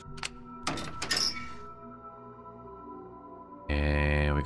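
A locker in the Resident Evil Zero video game opening with a key, a few sharp metallic clunks and clicks followed by a ringing tail, then a sustained game tone.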